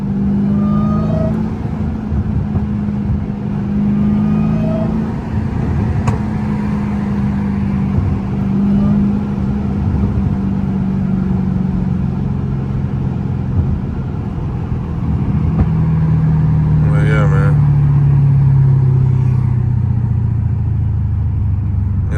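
Steady low engine rumble from a Dodge Hellcat cruising at night, heard from inside the car, with gradual rises and falls in pitch as it accelerates and eases off, continuous and fairly loud throughout.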